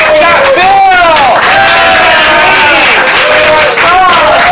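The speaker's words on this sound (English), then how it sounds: "Let's give the players a round of applause as I call them out." A loud audience at a ComedySportz improv comedy show applauds and cheers as players are introduced, with whoops and shouts rising and falling over dense clapping.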